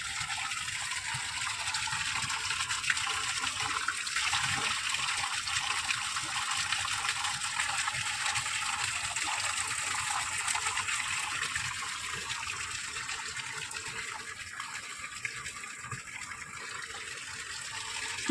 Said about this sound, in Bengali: এটা হচ্ছে ঝর্ণা,